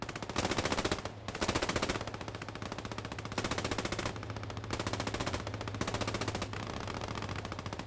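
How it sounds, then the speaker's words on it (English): Sustained machine-gun fire in the World War II game Post Scriptum, heard as long, rapid rattling bursts broken by brief gaps, loud and close. "Machine gun fire suppressing the attack, the defenders"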